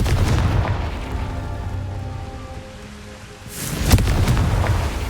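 Bombarda and Confringo spell explosions in Hogwarts Legacy, heard as a dense, rumbling blast with rushing debris that eases off, then a second sharp boom bursts in and rolls on, loud and close, with no talking.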